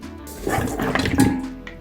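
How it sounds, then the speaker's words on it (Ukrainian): Water splashes and pours over chicken feet into a pot for a couple of seconds, with light clinks of the vessel. No voices. "Вливаю воду, перекидаю до каструлі"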